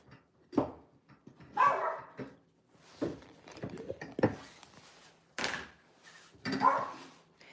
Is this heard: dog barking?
yes